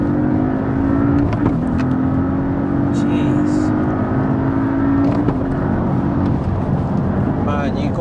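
A 400 bhp Porsche Cayman accelerates hard, heard loud from inside the cabin. The engine note climbs through brief gear changes, and a passenger briefly exclaims over the noise.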